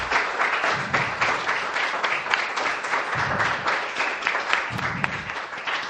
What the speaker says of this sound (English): Could you a big round of applause for all the panellists who spoke today?